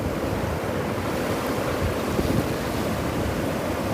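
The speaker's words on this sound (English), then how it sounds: "The beach is called St. Michael's." Ocean surf rolls in as a steady roar at St. Michael's beach on the KwaZulu-Natal South Coast of South Africa, a beach popular with bodyboarders and surfers. Heavy wind buffets the microphone throughout, and no one speaks.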